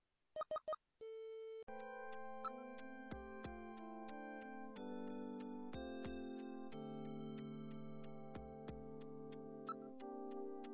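Telephone dialing in a cyberpunk adventure video game: a few quick synthesized beeps, a dial tone, then a long run of steady electronic tones stepping through different pitches, clean and fairly quiet.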